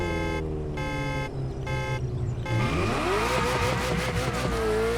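Ferrari F50 and F40 drag racing in The Crew Motorfest, engines droning then revving hard with rising gear pulls and a sharp upshift, loud and close with no talk.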